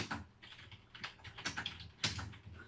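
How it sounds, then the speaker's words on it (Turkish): Fingers typing on a computer keyboard, an uneven run of close, clicky keystrokes in short bursts with small pauses between. "Mesela şu an sizinle konuşarak yazarım, zorlanıyorum."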